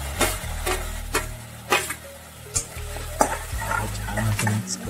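Tomatoes sautéing in a pan for bread upma, with a loud close sizzle under repeated sharp scrapes and knocks of a spoon stirring against the pan at an uneven pace.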